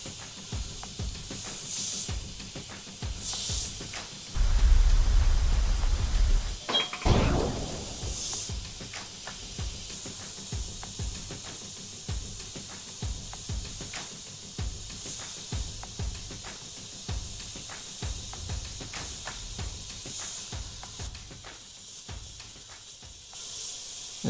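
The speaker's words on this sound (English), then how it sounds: "So using the red, just gonna airbrush over the top of it" An airbrush sprays red paint over a template edge with a steady, soft airy hiss that runs through most of the stretch, with a louder burst early on and brief pauses and clicks between passes.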